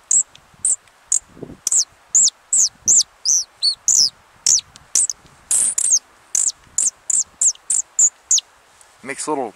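A twisted wooden bird call with a metal piece makes a run of short, high squeaky chirps in quick succession, bird-like and fairly close, repeating steadily with brief gaps and no talking.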